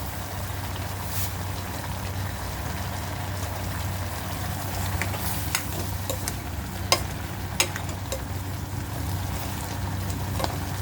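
Pumpkin and onion leaves stir-frying in a pan, a continuous loud sizzle with occasional scrapes and clinks of a spatula. No one speaks.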